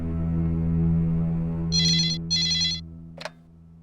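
A landline telephone rings twice in bright, clear electronic bursts over a sustained low musical drone, followed by a short click.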